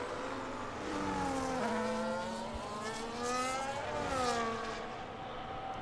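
Ferrari race cars in a racing video game circuit at Monza, engines droning and shifting pitch as they pass and accelerate, with a steady mid-level roar and sweeping rises and falls throughout.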